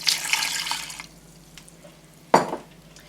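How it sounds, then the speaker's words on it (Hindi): Water poured into a pan of egg and potato korma, a brief splashing pour at the start followed by a sharp sizzling burst a couple of seconds later, close and fairly loud with no talk. "ये डाल लेने के बाद इसमें आप ऐड करेंगे थोड़ा सा पानी"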